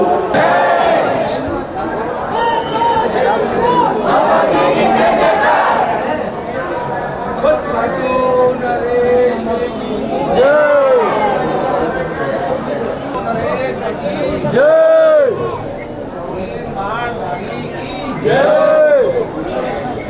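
Dense crowd chatter fills a packed Khatu Shyam temple, a steady babble of many voices with occasional louder calls rising above the hubbub, continuous throughout.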